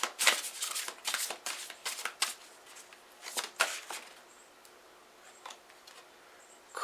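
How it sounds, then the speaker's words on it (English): A tarot card deck shuffled repeatedly nearby, quick riffling bursts and soft flutters, then quieter handling toward the end. "One thing I love about shuffling this deck"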